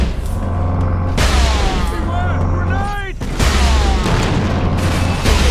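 A gun fires in Warhammer 40,000: Space Marine, a loud, booming shot that cuts in sharply twice amid dense, roaring game combat noise and overlapping voices.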